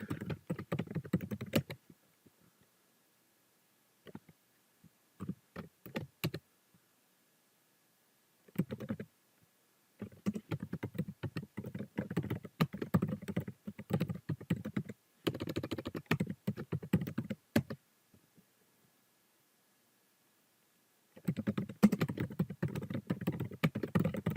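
Keys clatter on a computer keyboard in bursts of rapid typing separated by short silent pauses, quiet and close, with no talking.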